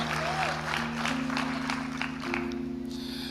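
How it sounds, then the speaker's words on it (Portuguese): A church congregation applauds, brisk clapping under sustained organ or keyboard chords, moderately faint and steady. "Você acha que ele merece ser aplaudido nessa hora?"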